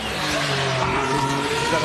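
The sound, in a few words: Formula E race car changing gear at Monaco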